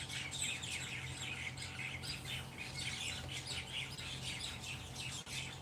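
Two mynah birds on a windowsill squawk and screech at each other, loud, harsh calls repeating in close, overlapping bursts against a steady low hum in the room.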